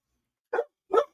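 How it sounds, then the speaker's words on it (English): Dog barking twice, two short, close woofs about half a second apart, with silence around them. "hold up a minute, I have a dog."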